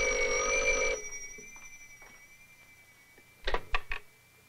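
An old telephone bell rings loudly for about a second, its tone fading out slowly, then a few brief knocks or handling sounds follow near the end.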